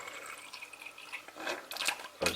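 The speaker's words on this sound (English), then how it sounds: "I'll add some distilled water." Distilled water is poured from a small container onto paste-like cysteine in lab glassware, a thin, bright trickle and splash that grows louder toward the end and finishes in a sharper spatter.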